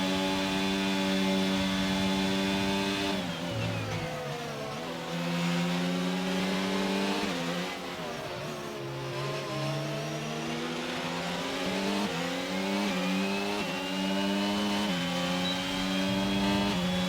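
Racing cars from a racing video game run nose to tail through a final chicane at the British round, a Ferrari leading an Aston Martin, their loud engines revving and shifting gears continuously, pitch dropping into the corner and climbing again on exit.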